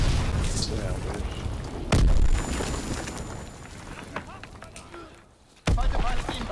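In Call of Duty WWII, Fritz X bombs strike with two heavy booming blasts a few seconds apart, set against a busy game soundscape while a player talks.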